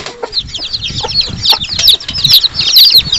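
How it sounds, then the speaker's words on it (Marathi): A hen clucks steadily among her newly hatched desi chicks, whose high peeping runs almost continuously over soft, close farmyard rustling. "तुम्ही बघू शकता कोंबडीने किती पिल्लं काढलेत."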